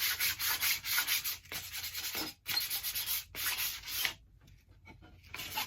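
Dry brushing and rubbing across a cut-off piece of weathered gray scrap wood with old nails in it, knocking off sand and dirt in close, steady bursts of scratchy strokes with brief pauses between.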